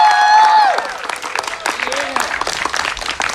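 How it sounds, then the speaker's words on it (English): An audience breaks into applause, with scattered claps and some cheering over music and chatter at a youth group evening gathering; the clapping stays moderate and mixed with voices throughout. "we're gonna give one more round of applause"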